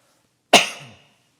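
A single sharp cough bursts out close by from an audience member during a church sermon, loud at first and then fading quickly, with silence around it.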